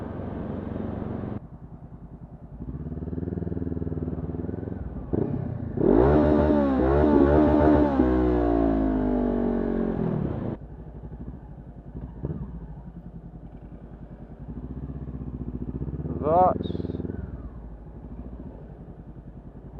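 A motorcycle rides through London traffic with a continuous engine drone, a loud revving surge midway as it accelerates, then settling back to a steady rumble amid city noise and a brief horn-like tone near the end.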